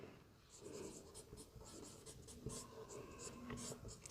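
Pen or pencil scratches on paper while maths is worked out during a Class 10 surface area and volume lesson, soft continuous strokes and taps with a faint room hum, no voices.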